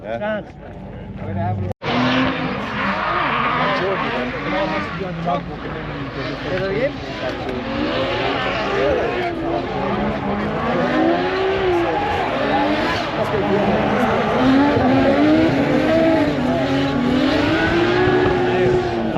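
Drift cars run at an Irish Drift Series round, engines roaring steadily for the whole stretch with rising and falling revs and tire noise, loud and continuous, with crowd and people talking underneath.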